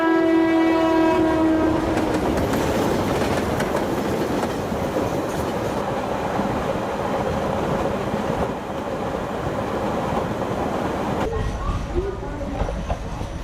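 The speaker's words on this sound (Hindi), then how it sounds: "पटना जाने वाली Tripura Sundari express platform number 2 पर आ रही है।" An express passenger train comes into a railway platform: a horn sounds at the start, then a loud, close, continuous rumble of rolling wagons with clattering wheels. People talk faintly beneath the noise.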